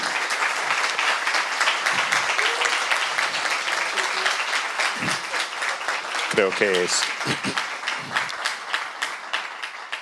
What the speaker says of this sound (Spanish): Creo que se merecen un muy, muy fuerte aplauso.